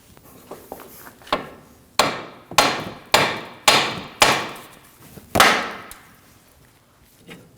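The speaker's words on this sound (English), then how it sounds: "we're going to use a hammer and hit the knuckle right on the front here" A hammer strikes the front of the steering knuckle on a 2013–2015 Subaru XV Crosstrek to free the outer tie rod: a few light taps, then six or seven loud, ringing metal blows at an even pace, close by.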